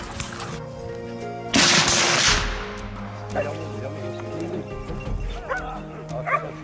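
Hunting dogs such as Catahoula leopard, black-mouthed cur and pit bull barking and yipping during a wild boar hunt, a sharp burst of loud barks followed by scattered yelps and whimpers nearby.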